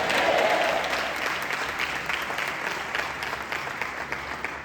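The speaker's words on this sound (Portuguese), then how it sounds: "Aplauda Jesus, amém?" A church congregation claps for Jesus in a dense, even wash of applause that starts loud and eases off gradually over several seconds, with no clear speech over it.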